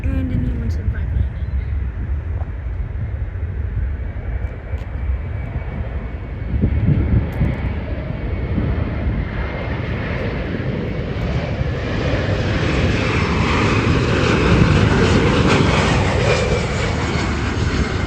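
A plane takes off at SeaTac airport, its engines roaring loud and steady, then building and brightening as it climbs away. Voices are heard over the noise.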